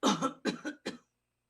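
Three harsh coughs in quick succession, each a short rough burst, close and fairly loud, followed by silence.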